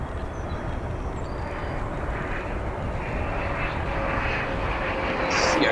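A CRJ-200 regional jet arriving from Lincoln, Nebraska, lands at Chicago O'Hare, its engines a steady, loud broadband roar that swells slightly toward the end, with no talk over it.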